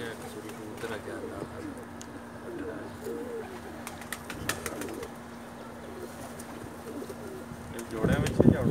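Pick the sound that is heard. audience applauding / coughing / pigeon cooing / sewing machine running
pigeon cooing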